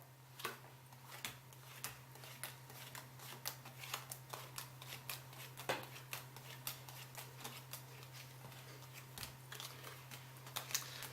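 A deck of playing cards is riffled through one card at a time during a beginner card trick, making a steady run of crisp, close flicks and snaps over a low constant hum, with no talking.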